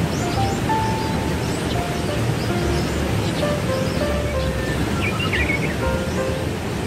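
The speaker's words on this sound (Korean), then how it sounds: "홍제천 인공폭포가 시원합니다." Artificial waterfall on Hongjecheon stream in Seoul, a steady broadband rush of falling water that fills the whole clip at an even level, with faint birdsong chirping over it.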